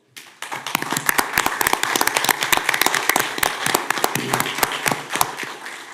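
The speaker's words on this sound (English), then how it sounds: "I ask everyone to just join me in a round of applause" A room full of people at a city commission meeting applauds veterans, the clapping dense and steady for several seconds with sharp individual claps standing out up close, and no talking over it.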